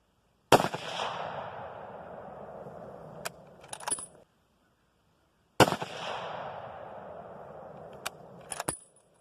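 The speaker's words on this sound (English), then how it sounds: "So we're going to shoot these ballistic silver tips and call it a day and take a look at the target." Two loud, sharp rifle shots from a 30-06 firing ballistic silver tip rounds, each followed by a long fading echo and faint metallic clicks of the action, outdoors by woods at dusk.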